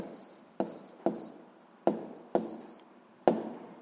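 A pen writes on paper during a 7th-grade physics exercise, its scratching strokes coming in short bursts, each starting with a sharp tap and fading before the next, close and fairly quiet with no talk.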